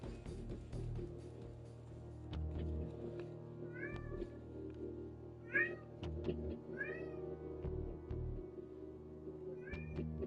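A cat gives several short meows spaced across the span, each rising and falling, over a steady low hum and occasional light knocks, with no talk.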